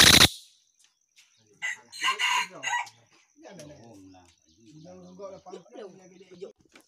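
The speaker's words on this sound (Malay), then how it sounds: "Ayam tu." A rooster crows nearby in a drawn-out call, with bird chirps and people talking quietly around it.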